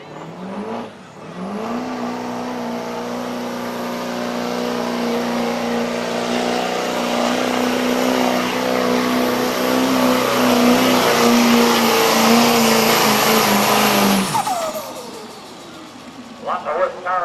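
A diesel pickup truck revving hard through a shootout run at a diesel powerfest, a loud sustained engine roar with a steady droning tone for about twelve seconds before it cuts off abruptly.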